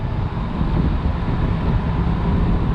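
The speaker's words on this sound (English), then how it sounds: "That 6-cylinder engine, you can rev it high." A stick-shift 1993 Jaguar XJS with a factory five-speed and six-cylinder engine, revving while driving, heard as a steady, dense low rumble with road and wind noise inside the car, no voices.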